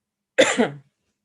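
A single short, sharp cough, close up, with silence on either side.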